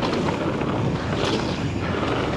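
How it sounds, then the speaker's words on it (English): Fierce wind roaring across the microphone on a mountain bike trail at a Welsh bike park, a loud continuous buffeting rush that fills the whole clip and drowns out everything else. "but that wind is fierce today."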